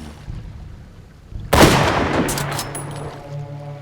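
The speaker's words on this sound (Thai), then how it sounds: "เขาเล็งปืนลูกซองคู่กายไปยังต้นเสียง แล้วเหนียวไกส่งกระสุนออกไปทันที" A single loud double-barrel shotgun blast rings out after a quiet stretch, leaving a rumbling, echoing decay behind it.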